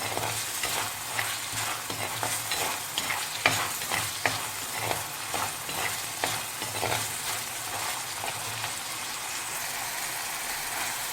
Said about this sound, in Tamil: இது வெந்தயம் நல்லா பொரிஞ்சு வர வரைக்கும் நல்லா வணக்குங்க.